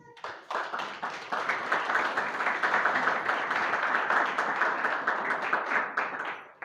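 Congregation at a Friday fasting prayer meeting claps together in steady, dense applause that swells and holds for several seconds before tapering off.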